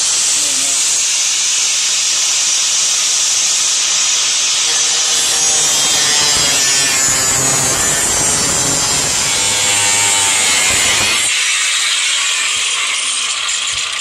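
A power tool cuts through metal plate on a Jeep Wrangler while sparks fly, giving a loud, continuous, harsh grinding hiss that holds steady for several seconds before shifting near the end.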